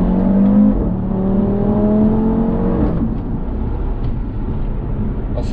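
An Audi RS3 tuned by ABT accelerates hard, its engine note climbing in steady rising harmonics through the gears, loud and continuous from close by, likely heard from inside the car.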